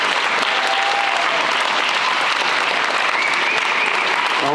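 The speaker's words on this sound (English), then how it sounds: "One more round of applause for JT." Steady, dense applause from a large audience at a high school spring signing day, filling the room continuously from start to finish with a faint voice or two underneath.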